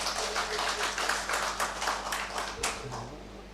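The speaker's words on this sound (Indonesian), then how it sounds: "Tepuk tangan untuk Pak Nur" A group claps steadily for a few seconds at a Golkar party regional meeting in Demak, the clapping thinning out near the end as a voice begins over a low hum.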